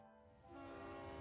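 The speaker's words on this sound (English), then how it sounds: "Choo-choo train!" A train horn sounds in the video game NIKKE, swelling into a sustained tonal blast. It is quiet overall and heard alone, with no talk.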